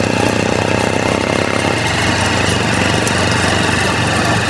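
Motorcycle engine laboring uphill in first gear on a rural road between barangays in Lopez, Quezon, a loud, close, steady buzzing drone with a constant revving pitch and no talk.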